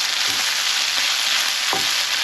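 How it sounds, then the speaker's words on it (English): Meat browning over high heat in a hot pan, a dense continuous sizzle with a few quick stirring scrapes, close and loud, no voices. "I'm just going to keep this stirring and let it brown off"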